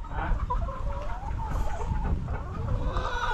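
Chickens of a black Australorp breed in a backyard coop cluck continuously at close range, with busy layered calls over steady low background noise and no talking.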